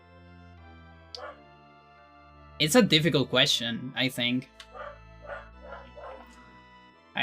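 A dog yips and barks in a tight cluster of loud, close bursts, then trails off into softer whimpering yelps, with a person talking quietly in the background.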